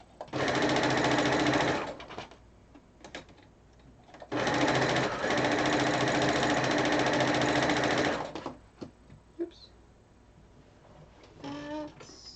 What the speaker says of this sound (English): when I'm sewing these 2 rows, this one I have 3 pieces pinned together.